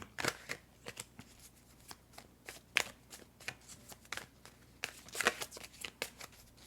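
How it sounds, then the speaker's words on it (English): Tarot cards shuffled by hand in a quiet room, a rapid run of papery riffles and soft slaps in bursts, fairly close and fairly quiet, with no talk. "There comes a point where I start shuffling faster because I'm getting impatient."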